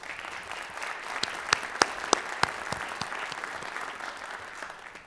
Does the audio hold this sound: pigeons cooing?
no